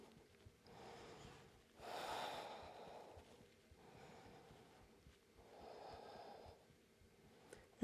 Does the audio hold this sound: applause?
no